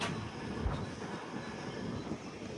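Kacheguda Weekly Express passenger train running with a steady rolling rumble and rail noise, close and continuous, with a brief low thump partway through and no talk.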